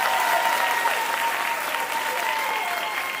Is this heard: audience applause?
yes